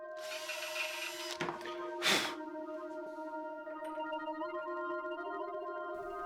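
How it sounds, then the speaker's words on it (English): A power drill whines at a steady pitch, pausing briefly and shifting tone as it bites into steel, close and continuous. "Now I clear drill the steel."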